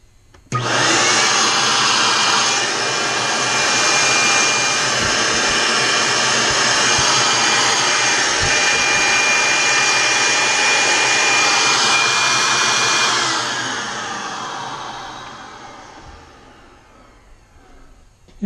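A shop vacuum cleaner rigged as a forge blower roars into a loud, steady rush of air that runs for about thirteen seconds, then winds down and fades as the motor coasts to a stop.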